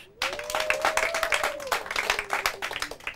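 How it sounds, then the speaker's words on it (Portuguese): Studio audience at a Portuguese quiz show breaks into sustained, fairly close applause, dense clapping running throughout after a brief quiet start, with a faint tonal sound gliding underneath. "Mas palmas para eles."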